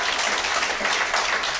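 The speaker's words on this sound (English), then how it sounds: "May I have a round of applause for these cadets and instructors?" Brief burst of audience applause for cadets and instructors at a ceremony, a dense, steady wash of clapping heard alone at moderate loudness.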